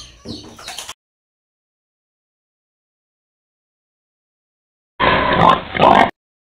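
Newborn piglets on a hog farm oinking and squealing in two short bursts, one at the start and a louder, busier one near the end, separated by several seconds of silence.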